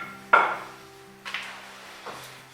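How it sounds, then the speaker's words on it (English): A rolling pin works thin samosa pastry dough for pockets, giving three soft, muffled strokes about a second apart, close by, over a steady low hum. "So you roll it out thinly."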